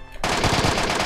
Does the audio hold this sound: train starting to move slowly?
no